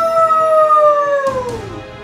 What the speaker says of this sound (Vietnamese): sủa to khiến phòng thủ đối phương suy giảm, tăng sát thương của bản thân.